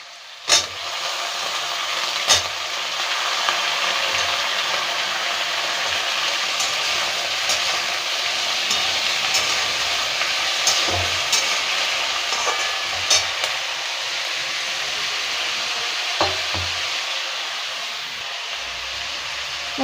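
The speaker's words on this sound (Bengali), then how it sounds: "এবার বেগুনটা দিয়ে দেবো" Brinjal pieces fry alongside potatoes in a pan for a Bengali village curry, giving a long, even hissing sizzle with scattered sharp clicks and scrapes from stirring.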